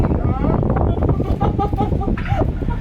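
Strong wind buffeting a microphone during a Sentosa cable car ride in Singapore, a loud continuous low rumble and roar, with a voice speaking over it.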